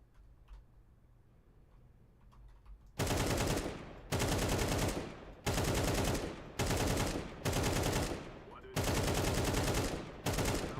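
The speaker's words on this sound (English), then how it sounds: "Oh yeah, I'm just shooting." Rapid automatic gunfire in a shooter video game, heard as loud sustained bursts of several shots each, broken by brief pauses, after a few seconds of quiet background.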